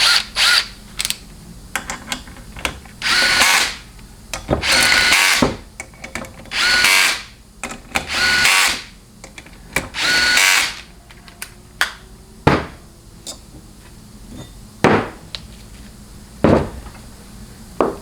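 Power tool with a 13mm socket running down the pump bolts on a 4L60E transmission, sounding in repeated bursts of whirring drive, some long and some short, with clicks and taps between them.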